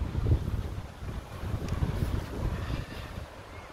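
Wind buffeting a microphone outdoors on a small field during metal detecting, a low, rumbling roar in uneven gusts that stays steady and fairly loud throughout, with no voices.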